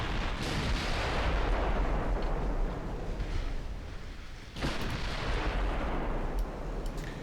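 Battleship guns fire in the video game Dreadnought Improvement Project, with loud, rolling booms that sustain into a long rumble, then a second heavy salvo cracks out and rumbles on.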